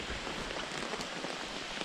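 Steady rain patters over a wild camp on Dartmoor, a constant close hiss of drops on ground and gear with no talking.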